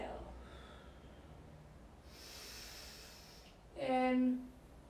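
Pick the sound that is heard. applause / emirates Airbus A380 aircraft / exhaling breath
exhaling breath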